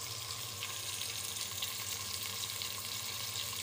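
Onions brown in hot oil for chicken pulao, giving a steady, continuous sizzle and crackle that holds at an even level throughout, close and without talk.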